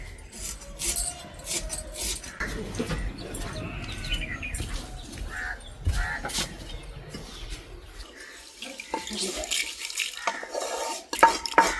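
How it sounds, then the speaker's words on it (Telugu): Irregular knocks and grinding clatters of a stone pestle pounding mango and coconut chutney in a stone mortar, close by, with scraping between strikes. "ఇలా కోసుకుని దంచుకోవాలి. రుబ్బురోడు కడిగాను కదా అందులో దంచుతా."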